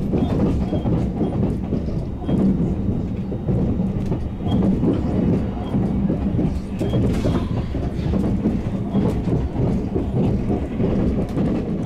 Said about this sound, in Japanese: 昔ながらのロングレール化工事がされていない、ガタンゴトンという音を立てながらの旅